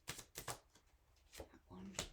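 Tarot cards being drawn and handled during a reading, with a few quick papery flicks and slaps in short bursts, some close and crisp, over a soft, quiet background.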